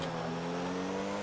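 A car engine driving at a steady hum with strong tonal drone, continuous and fairly even throughout, no voices.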